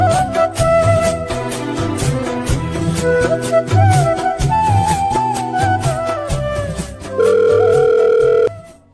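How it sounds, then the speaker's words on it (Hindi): A telephone ringtone plays a repeating electronic melody, loud and close, ending with a held tone before cutting off. "कौन फोन कर दिया रे?"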